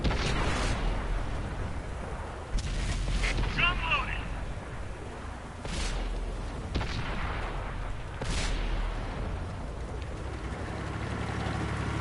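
A tank cannon fires in a PS4 video game, with several heavy booming blasts spread across the clip over constant engine rumble and battle noise, while someone talks.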